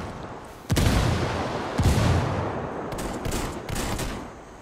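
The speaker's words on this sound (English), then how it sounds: "Grenade, move! Yo, watch out for the flashbang." Flashbang grenade blasts in Ghost Recon Wildlands, a sharp loud crack followed by another detonation and scattered gunfire, close and punchy over several seconds.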